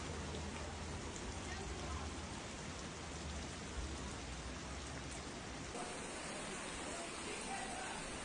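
Steady, dense heavy rain hiss from a severe storm in Brazil fills the whole stretch, a constant wash of falling water with low rumbling underneath and no clear breaks.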